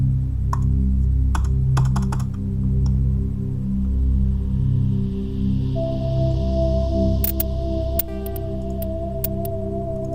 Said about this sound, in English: I love this keyboard